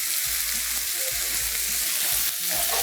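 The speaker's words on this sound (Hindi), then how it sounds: "ग्रीन करी पेस्ट शामिल करना है। और खूब अच्छे से इसको भून लेना है" Green curry paste and chicken sizzle steadily in hot oil as Thai fried rice is cooked, a continuous close frying hiss with occasional stirring scrapes and no talking.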